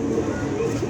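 Caught pigeons in a loft give low, throaty coos, a short burst of soft rolling calls close at hand.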